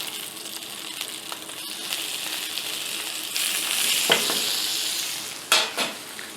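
Chicken suprêmes and Jerusalem artichoke rounds frying in a pan, a continuous close sizzle that swells midway, with several sharp utensil clinks and scrapes as pieces are turned.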